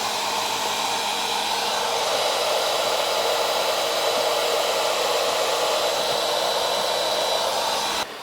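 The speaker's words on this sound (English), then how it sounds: "And put this old vacuum cleaner in there too." An old vacuum cleaner drawing about 2047 watts runs steadily and loudly with a constant airy whine, then cuts off abruptly at the very end.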